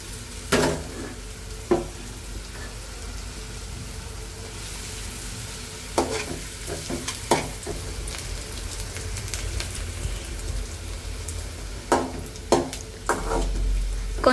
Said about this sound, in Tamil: நல்லா டீப் ஃப்ரை வறுத்து எடுத்துக்கோங்க.